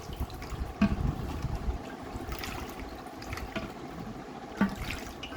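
A clay pot being washed with water and salt, with a continuous close splashing and sloshing of water inside the pot, broken by a couple of louder knocks and splashes.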